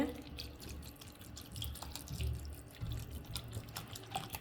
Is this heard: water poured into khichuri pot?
yes